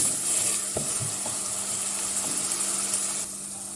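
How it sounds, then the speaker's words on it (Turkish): Chopped onions sautéing in a spoonful of butter for a green lentil and noodle soup give off a steady, close frying sizzle, with a few soft stirring knocks from the pan. "Lezzetini arttırmak için tekrardan kavurmaya devam ediyorum."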